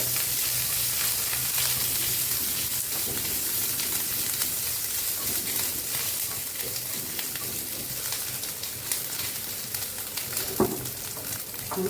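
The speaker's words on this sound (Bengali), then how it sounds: "এখন আদাটা একটু ভেজে নেব।" Crushed ginger frying in hot oil for a prawn and bottle gourd dish, a continuous close hiss and crackle of sizzling with faint scattered taps, steady throughout with no talking.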